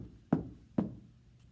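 Two clean knocks on a door sound in a storytelling performance, spaced about half a second apart, close and fairly sharp against a quiet background.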